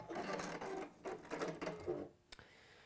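A sewing machine stitches fabric seams in quick, steady runs of rattling needle strokes, pausing briefly between bursts and stopping near the end with a small click.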